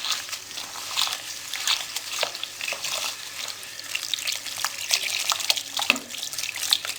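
Ajwain seeds being swished and rubbed by hand in a bowl of water, with steady close splashing and sloshing and irregular little drips and clicks throughout.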